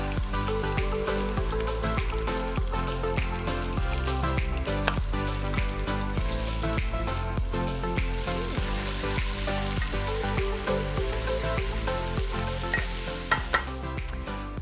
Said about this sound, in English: add the onions, and then cook them for 5 minutes just to get some caramelisation